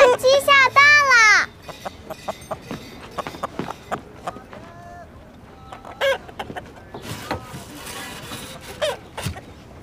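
A hen clucking after laying an egg, loud rising squawks at the start followed by scattered short clucks, with someone speaking and clip-clopping sounds in the background.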